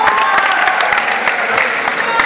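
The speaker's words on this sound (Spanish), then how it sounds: "Aplausos para esta batalla." A crowd at an outdoor court rap battle claps and cheers steadily, a dense burst of applause close by for the whole short stretch.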